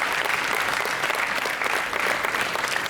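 Loud, dense audience applause fills a hall at a college annual day, steady and sustained from start to finish with no voices rising above it.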